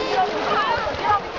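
Water splashes and sloshes close by as a child learns to swim at Atsion Lake, with a steady wash of splashing under people talking and calling out.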